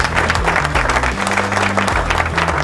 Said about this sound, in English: Another round of applause for the winning house.